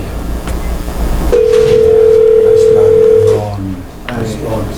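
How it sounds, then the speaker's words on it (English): A phone line connects for a council meeting call, with a single steady electronic tone holding for about two seconds over faint room background. "we'll connect with him on the phone"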